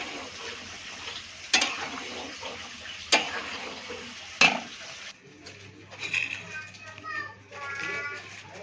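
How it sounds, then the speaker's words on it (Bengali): Egg bhaji stirred with ghee in a pan, a soft sizzle and scraping under a few sharp metallic knocks of the spoon against the pan, with faint voices and background chatter toward the end. "ঘি দিয়ে ভালো করে একটু নেড়ে চেড়ে"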